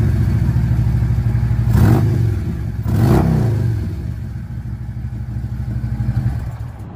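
A 103-inch six-speed lowered Harley motorcycle, apparently a 2015 Road Glide, idles loudly nearby and revs in two quick throttle blips, then settles back into a rumbling idle.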